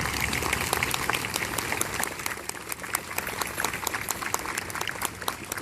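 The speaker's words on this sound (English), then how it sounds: "please give a big round of applause for our first responders who are here today" Dense, lively applause from a crowd at a school JROTC 9/11 memorial ceremony honoring first responders, many hands clapping steadily and loudly with faint crowd noise beneath.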